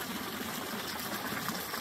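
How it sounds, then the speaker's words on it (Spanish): Falling hot-spring water rushes in a steady, continuous wash, fairly faint and distant, with no voices over it. "el agua que está cayendo de por allá"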